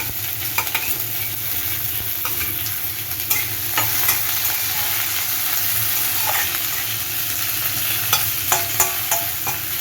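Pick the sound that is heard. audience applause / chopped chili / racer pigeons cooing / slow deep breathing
chopped chili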